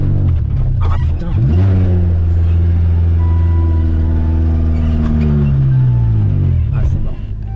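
A Renault 4L engine strains hard in sand, revving loudly with a rising, wavering whine as the wheels spin and it bogs down, then cuts off abruptly; people talk briefly over it.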